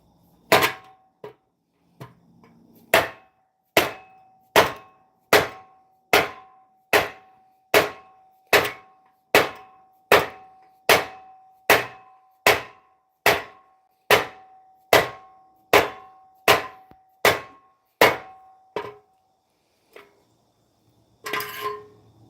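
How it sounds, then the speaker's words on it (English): Hammer pounding metal in a workshop: after a few light taps, a steady series of hard, ringing strikes about one per second, close and crisp, ending with a brief clatter. "Hammer!"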